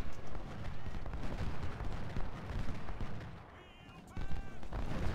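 Artillery and musket fire boom and crackle in Ultimate General: Civil War, a dense battle din of repeated blasts with a short lull and then renewed firing, with speech over it.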